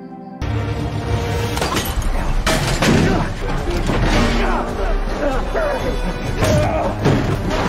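Rapid gunfire in a film scene from a plastic pistol that overheats and explodes, a dense run of loud bangs and impacts under music and effects with no clear break.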